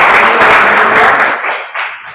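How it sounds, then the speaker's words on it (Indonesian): Students in a classroom break into loud, close applause for a classmate, then the clapping thins out and stops after about a second and a half. "tepuk tangan buat Anggi"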